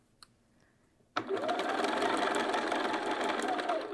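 A sewing machine starts up after a brief click and runs steadily, stitching bias binding onto a bag with a continuous, even whir close by.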